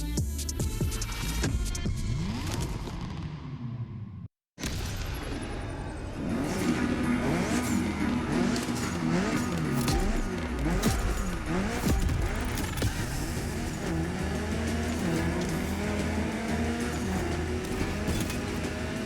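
A Mitsubishi Evo 9 engine in The Crew Motorfest revs hard and continuously, loud and close, with a brief silent dropout early on and throbbing gear-change sweeps throughout.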